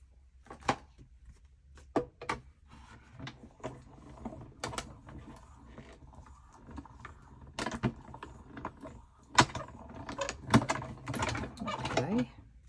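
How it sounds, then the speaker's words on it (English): A hand-cranked die cutting machine presses paper for an autumn craft sampler, producing a series of close clicks, ratchety rattles and short mechanical scrapes at uneven intervals. "we'll die cut this one again"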